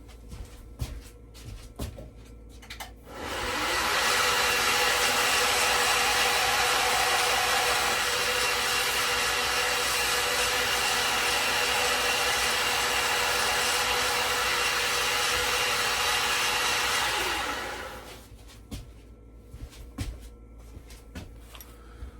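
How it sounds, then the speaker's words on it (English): A belt sander flattens the metal pins of a fixed-blade knife with a moose stag handle, one loud continuous grinding run of about fifteen seconds starting and stopping abruptly, with quieter shop noise before and after. "go over to the sander, flatten, make sure they're flat so they can peen over correctly"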